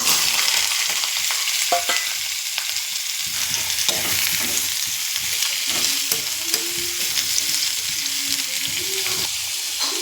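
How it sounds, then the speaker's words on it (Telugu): Beetroot pieces fry in hot oil with a continuous crackling sizzle, broken by frequent scraping stirs and clatter of a utensil against the pan, close and steady with no talking. "బీట్రూట్ అన్ని ముక్కలు కట్ చేశానండి ఇప్పుడు ఆయిల్లో ఫ్రై చేస్తున్నాను"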